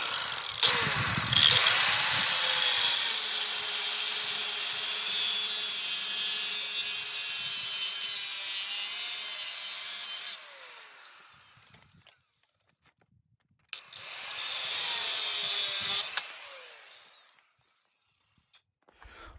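A power saw cuts through a metal tube for a homemade prototype, a loud sustained whine for about ten seconds, a brief pause, then a second shorter burst before fading to quiet.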